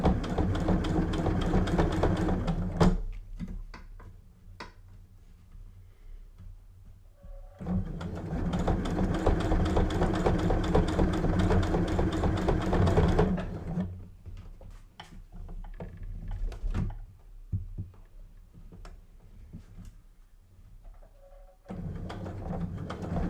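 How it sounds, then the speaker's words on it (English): A sewing machine stitches a fabric side pouch in bursts, running steadily for a few seconds, pausing, then a longer continuous run before stopping, with faint handling clicks in the gaps. "Then we're planning to stitch all the way to the top."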